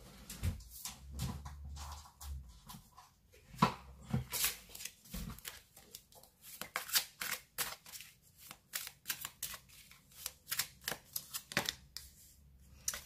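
Tarot cards are shuffled and flicked close by, crisp papery riffles and soft slaps arriving in irregular bursts, heavier at the start and then a quicker run of snaps, with no one speaking.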